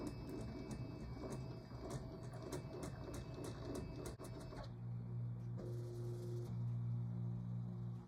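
A Ricoma embroidery machine runs its trace around the design area on the hoop, giving a steady mechanical hum with rapid rhythmic ticking that shifts to a smoother whirring drone partway through.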